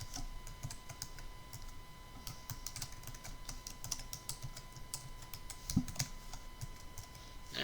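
Quiet, steady typing on a computer keyboard while entering text in MS Word, with irregular clusters of soft key clicks and a faint background hum.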